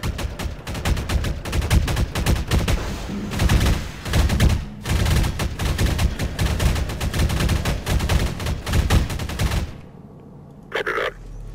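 Sustained heavy gunfire and explosive bursts in a Lambda Wars co-op match as rebel scrap houses are destroyed, loud and dense for about ten seconds before dropping to a quieter tail.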